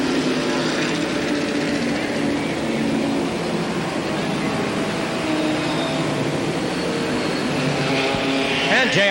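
ARTGO race cars roar around an oval track at the 1985 Capital ARTGO 100-lap feature, a dense, loud wall of engine noise with shifting pitches as cars pass. A commentator talks over it throughout.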